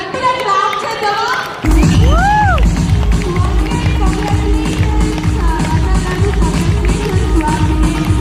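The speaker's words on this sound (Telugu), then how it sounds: "ఒక్కసారి అందరూ కూడా కలిసి గట్టిగా క్లాప్ చేద్దామా?" An audience clapping together at a Safe Shop company event, breaking in suddenly after a quiet moment and continuing as loud, sustained applause with crowd noise, a whistle-like sweep heard early on.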